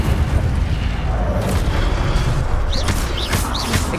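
Incendio fire spell cast repeatedly in the video game Hogwarts Legacy, a dense roaring burst of flame and booming impacts over a continuous loud rumble, with sharp whooshing flourishes near the end.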